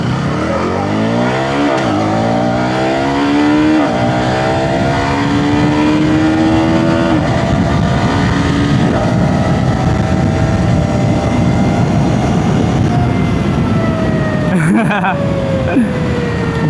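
A KTM Duke 250 motorcycle under way climbs steadily through the revs and shifts gears several times, its engine note loud over constant road and wind rush.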